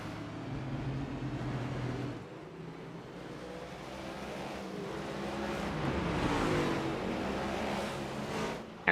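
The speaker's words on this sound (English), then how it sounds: "And the pace car going to be flying around the corner just beyond the reach of the drivers here" A racing sim pace car circling the track, its engine a steady mid-level drone that swells and eases as it rounds a corner, heard alone at moderate distance.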